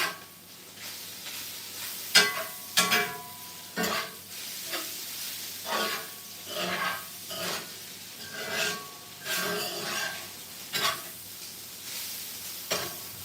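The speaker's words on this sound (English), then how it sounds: "Let me give it a stir." Taco filling stirred in a sizzling pan, the utensil scraping and rasping in a steady series of strokes over a soft background fry, close and fairly quiet.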